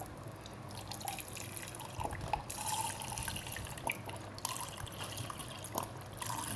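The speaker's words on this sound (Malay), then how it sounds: "kita isi dengan air abu" Lye water made from ash poured into a container to soak dried squid, a continuous close trickling and dripping of liquid with small splashes, steady and moderately quiet throughout.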